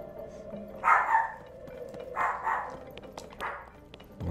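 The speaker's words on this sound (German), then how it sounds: "Der Hund, der hört wieder irgendwas." A dog in The Legend of Zelda: Tears of the Kingdom gives three short, moderately loud barks spaced about a second apart, over a low steady game background with no talking.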